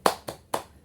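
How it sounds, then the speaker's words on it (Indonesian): A school class does the 'tepuk semangat' clapping chant: three sharp, close claps in quick, even succession, with no voices. "untuk lebih semangatnya kita tepuk semangat terlebih dahulu ya"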